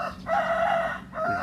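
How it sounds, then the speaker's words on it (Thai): A rooster crows loudly nearby, one drawn-out call followed by the start of another after a short pause. "มีเสียงไก่ขันด้วย"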